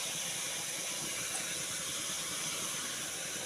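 Potatoes and dried fish sautéing in a pan give off a steady, even sizzling hiss that holds without a break throughout.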